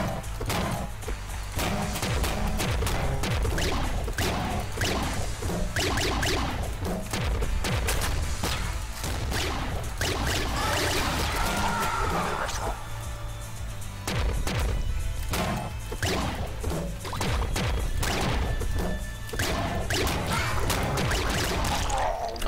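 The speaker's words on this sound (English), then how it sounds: "an explosion hit me" Explosions and heavy blasts in a video game come as dense, repeated sharp bursts and crashes, loud and nearly continuous over a busy game soundtrack.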